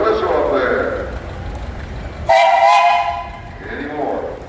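At a steam traction engine parade, an engine with a universal boiler that burns wood, coal and straw gives one loud, steady whistle blast of just under a second, between stretches of someone talking over crowd noise.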